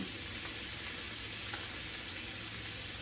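Chicken with lime, cilantro and jalapeno frying in a pan, giving a steady, even sizzle throughout at low volume and close by, with no talk.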